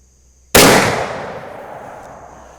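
A single loud muzzleloader rifle shot at an outdoor accuracy range, a sharp crack followed by a long decaying echo, close and alone.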